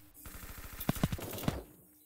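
Quiet gunfire in a first-person shooter video game: a quick string of rapid shots followed by a few louder, distinct bangs, lasting under two seconds with no talking.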